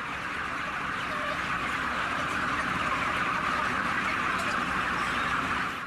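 Chickens fill an intensive poultry production shed with a constant dense wash of clucking and chatter from many birds, steady and fairly loud throughout, with no talking.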